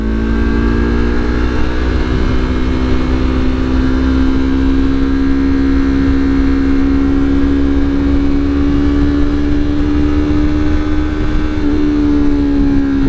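A Yamaha R3 motorcycle fitted with an Akrapovic slip-on exhaust drones steadily at cruising speed, its engine note rising slightly and holding loud and close throughout, with no voices.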